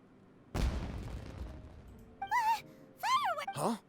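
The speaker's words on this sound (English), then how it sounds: "Was that an explosion? It sounded like fireworks." A sudden boom bursts out in Genshin Impact, like a firework explosion, then rumbles and fades over a couple of seconds before short character voice sounds follow.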